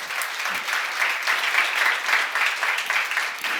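A church congregation at a seminar claps together, a sustained, moderately loud applause with a faint rhythmic pulse of many hands throughout.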